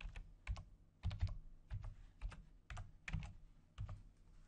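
Computer keyboard typing, a short burst of quick, light keystrokes in uneven clusters, close and quiet, with no talking.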